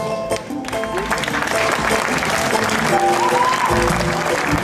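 Loud, sustained audience applause at an outdoor tribute concert in Parc de la Liberté, a dense wash of clapping with some crowd voices and lingering music.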